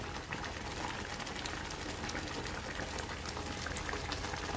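Amti, a five-lentil dal curry with bottle gourd, boiling in a pot, a steady dense bubbling and gurgling, moderately close and even throughout, no voices.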